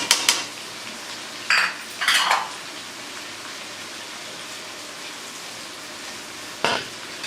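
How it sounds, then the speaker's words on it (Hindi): Chopped green chillies tossed into a pan of ginger garlic paste frying in oil, bringing a soft steady sizzle broken by a few sharp clatters of a spoon against the pan. "ये हमारा अदरक लहसुन का पेस्ट है और इसके साथ हम ये सब्ज़ी मिर्चें जो हमने 4 काटी थी ये भी हम ऐड कर देंगे।"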